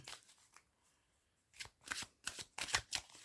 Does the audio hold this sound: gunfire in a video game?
no